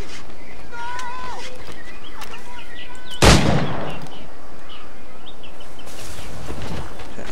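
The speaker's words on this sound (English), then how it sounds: "Over to our gun, reload, and take him out." A single loud, close gunshot booms in Assassin's Creed IV Black Flag, set against outdoor ambience with bird chirps before it and a fading echo after.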